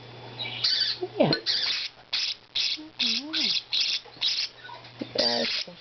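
Budgie chicks squawk during handfeeding in a series of close, harsh rasping bursts, roughly a dozen in quick rhythm, with a low mechanical hum beneath and a few softer chirps between.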